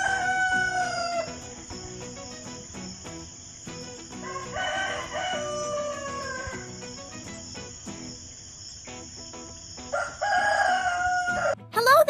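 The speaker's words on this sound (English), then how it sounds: "wakes everyone up with my cheerful crowing at dawn" A rooster crows three times, loud and drawn out, with a steady chorus of chirping insects in the background.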